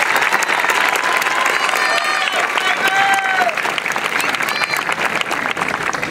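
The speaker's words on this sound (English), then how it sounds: "let's give them all a round of applause" Audience applause at a graduation ceremony, a dense, steady wash of clapping from a large crowd that continues throughout at full loudness, with faint voices and whistles mixed in.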